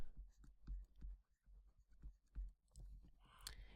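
Hand writing on a board during a classroom-style lesson about lung surfactant and alveoli, with several short scratchy strokes and taps in an uneven rhythm at close range, finishing with a longer scrawl.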